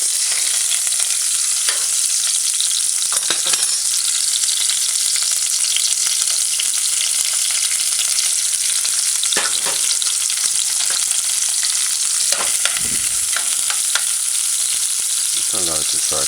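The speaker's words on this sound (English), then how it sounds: "Add the onion." Onion sautéing in a pan for a salmon tomato stew, giving a steady, loud, close sizzle with occasional sharper crackles and stirring scrapes throughout, no talking.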